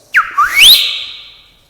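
A person whistles close and loud, a short rising-and-falling two-part call that swoops upward and trails off, heard alone with no talk.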